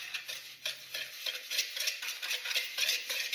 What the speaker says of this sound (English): Stir it until it's ready to go.